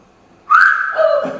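One loud, shrill finger whistle breaks the quiet, rising sharply and then dropping to a lower sustained tone before it fades, heard close and on its own.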